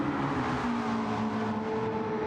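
Ferrari race car in a racing video game, a steady, high-revving engine drone held close and continuous with no breaks.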